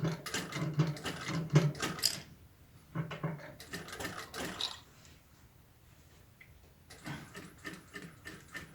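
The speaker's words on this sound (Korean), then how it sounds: "미싱 땀수를 좀 키워서 식혀놓는다는 개념으로 미싱을 박을 겁니다." A sewing machine stitching a woman's jacket sleeve with long, loose stitches: quick mechanical rattling runs in short bursts separated by quiet pauses, close and fairly soft.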